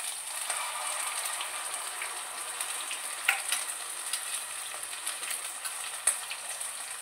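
Spice paste of ground ginger sizzles while frying in a pan, giving a continuous bright hiss with light spatter, a few sharp stirring clicks and pops, close and alone.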